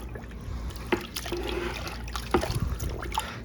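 Hides being stirred in a salt water bath, giving soft watery sloshing and trickling with a couple of sharper splashes, close by.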